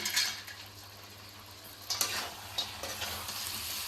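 Fried potatoes and cashews sizzling in a pan, a steady close frying hiss broken by several clattering scrapes of a spoon stirring against the metal.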